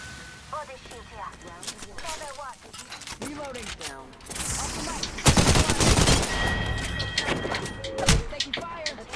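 Video game gunfire: rapid bursts of automatic weapon shots and single cracks, some near and loud, others farther off, overlapping with players talking throughout.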